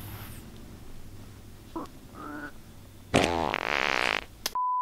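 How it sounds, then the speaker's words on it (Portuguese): A loud fart bursts out near the end, a dense buzzing blast of about a second that stands well above quiet room noise and short earlier squeaks. "Você soltou um pum muito alto."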